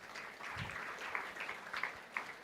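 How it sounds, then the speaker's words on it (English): Polite audience applause at a college technical symposium, a soft, steady patter of many hands heard from a distance at low level, with a few sharper claps near the end. "she also deserves a big round of applause"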